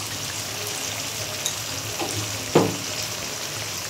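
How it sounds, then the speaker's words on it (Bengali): Spices with chili powder, cumin powder and salt fry in a pan, a continuous soft sizzle with a few scraping stir sounds, one louder clack near the end, no speech. "এবার আমি মশলাটা কষিয়ে নিই।"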